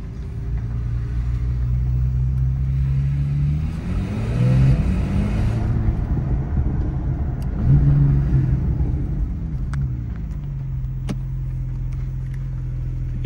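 A Porsche 911 991 Carrera 4 GTS with 450 horsepower pulling away, a loud deep engine drone that rises in two revving surges before settling back to a steady low rumble, heard from inside the car with no talking.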